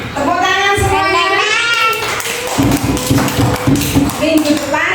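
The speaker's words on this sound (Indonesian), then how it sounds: "Tepuk tangan semuanya." A class of children claps hands in a classroom, a burst of quick, uneven taps and claps rising in the second half after a voice speaks at the start, with children's voices mixed in.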